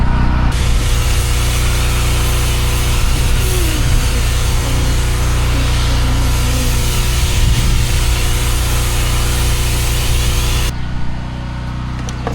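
Pressure washer rinsing the outside of a house, with a loud continuous engine drone and a broad hissing spray that run steadily at close range before easing slightly at the end.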